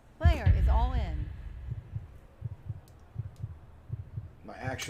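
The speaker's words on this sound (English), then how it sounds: "My actual heartbeat" Steady heartbeat thuds of a VR poker player during an all-in hand, a regular low pulse that runs for several seconds after a burst of speech and before talk resumes at the end.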